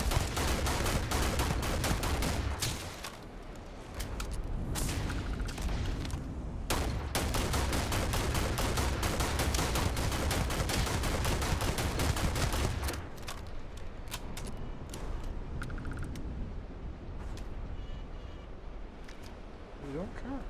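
Enemy gunfire in Starfield's Watchtower, sustained rapid automatic bursts rattling continuously for most of the stretch, then easing into lighter scattered shots, loud and close over game ambience.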